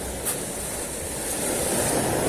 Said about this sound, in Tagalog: Namamalo ang alon.